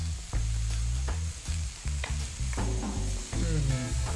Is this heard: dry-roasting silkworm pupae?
yes